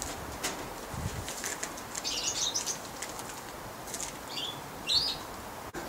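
An owl's soft wingbeats flutter faintly in flight over steady background noise, with a few high chirps from small birds nearby.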